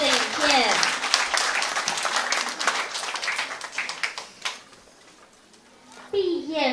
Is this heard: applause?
yes